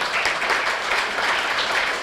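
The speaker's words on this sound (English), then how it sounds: "can I please request everybody to again give him a big round of applause" Seminar attendees give a round of applause, a short burst of dense, moderately loud clapping from a crowd that holds steady for about two seconds.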